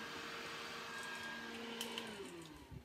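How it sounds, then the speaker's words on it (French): A small three-speed electric fan running steadily at close range, an even whirring drone with a faint motor whine that holds throughout, with a few light handling knocks near the end. "je me suis acheté plein de petits ventilos comme ça, qui franchement sont super pratiques. Vous avez 3 vitesses."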